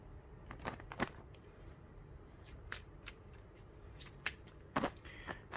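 Tarot cards are shuffled in scattered bursts of sharp flicks and riffles, close up and soft, with quieter gaps between the clusters.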